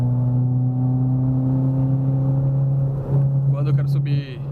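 An RS car climbing a mountain road in fourth gear gives a steady, droning engine roar that holds for several seconds, then rises and shifts in pitch near the end with some higher rasping noise.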